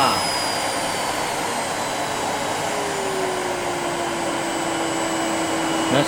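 Miele S7510 upright vacuum cleaner running on its automatic setting, a steady, loud motor whine that holds constant throughout with slight pitch drift, close by and continuous.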